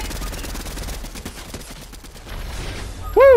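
Rapid automatic gunfire in the Fortnite video game, a steady stream of fast shots under game ambience, ending with a brief rising electronic chime.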